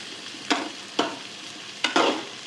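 Drumstick and tomato curry is stirred in a pan with four distinct scraping strokes, the last two close together, each over a soft background sizzle.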